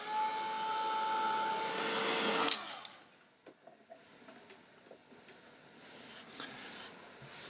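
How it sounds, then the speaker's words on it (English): A heat gun blows steadily on freshly varnished wood on a Halloween poison cabinet prop, a loud broadband roar for about two and a half seconds before cutting off, leaving faint scattered handling noises. "you can encourage it with the heat gun"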